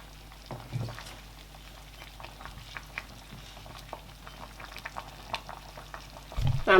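Bitterleaf soup being stirred in a pot with Igbo, maggi and salt added, giving soft bubbling and spoon scrapes with scattered light taps, fairly quiet, a louder clatter at the very end.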